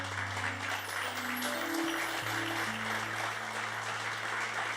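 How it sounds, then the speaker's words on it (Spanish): Church congregation claps during a sermon, a steady dense wash of applause under sustained organ or keyboard chords, loud and continuous throughout. "Dale un fuerte aplauso al Señor."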